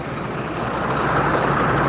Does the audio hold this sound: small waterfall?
no